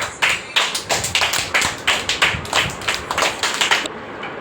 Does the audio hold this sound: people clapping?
yes